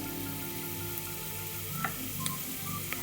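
Whole garam masala spices sizzle gently in hot oil for a Kerala-style beef roast, making a faint, steady hiss with a few soft pops and crackles near the end.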